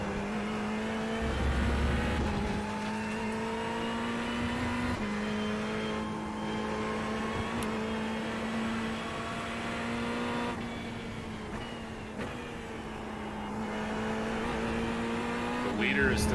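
GT3 race cars lapping Road America, a steady engine drone holding pitch with gear changes and slight shifts as cars run the circuit, loud and continuous with a voice speaking over it.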